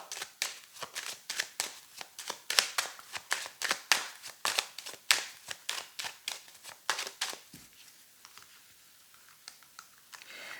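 Rapid riffle shuffling of a tarot card deck, dense crisp bursts repeating for about seven seconds, then tapering to soft handling noise; close, with no talk.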